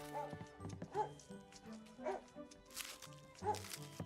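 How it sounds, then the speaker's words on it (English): A dog in the video game Mutter barks in short bursts while running through fences and chasing across crops, heard at low level under game music and ambient sound. "Oh, there goes the dog."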